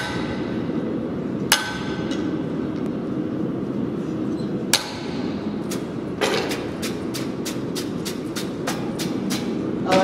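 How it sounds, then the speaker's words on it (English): A hammer drives a punch into hot forged metal to shape a collar, ringing out as sharp metallic strikes: two spaced blows, then a quick, even run of taps toward the end, over a low steady background hum. "I can either use my center punch or stud punch or even a four punch or whatever"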